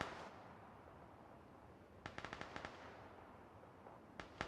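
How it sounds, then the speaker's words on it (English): In the PUBG video game, gunfire crackles at a distance: a quick volley of sharp shots, then a short pause and another brief burst, all faint over a low background hiss. "So exchange of bullets, there goes one."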